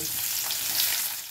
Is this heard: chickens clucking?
no